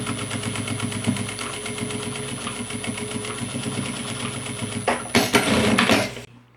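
A sewing machine stitches straps onto a handbag with a continuous, fast, close mechanical rattle that speeds up near the end before stopping abruptly.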